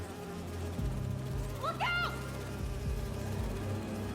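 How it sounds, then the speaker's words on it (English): Holographic bee wolves in the Spider-Man 2 video game give off a brief whirring, insect-like buzz that rises and falls over a steady low hum, while a voice shouts a short warning. "Do you see those little holographic bee wolves?"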